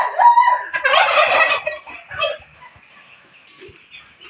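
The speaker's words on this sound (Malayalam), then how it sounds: "ഞാനിന്നിവിടെ നിൽക്കുന്നത് എൻ്റെ മാമൻ്റെ വീട്ടിലുള്ള കോഴി ഫാമിലാണ്." Broiler chickens of about two kilograms fill a family poultry farm with loud, overlapping clucks and gobbling calls that fade into quieter, scattered clucking and short squawks.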